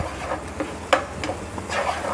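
Spices and tomato frying over a very low flame in a pan for a paneer curry, a soft steady sizzle broken by a few brief stirring scrapes and clicks, close and with no talk.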